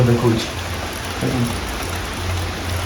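Steady hiss of rain falling continuously, with a voice speaking briefly over it near the start and again partway through.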